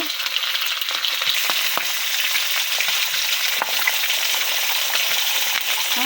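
Pieces of rohu fish fry loudly in hot oil with a dense, continuous close-up hiss and sizzle, broken by occasional sharp pops and spits, with no voices.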